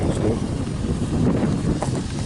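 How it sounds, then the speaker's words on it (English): Steady broadband wind buffeting a microphone, a continuous low rumble and rush with no speech, holding constant throughout. "I apologize for the wind today."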